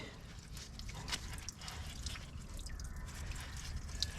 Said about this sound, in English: so the fuel quits dripping, because it's still dripping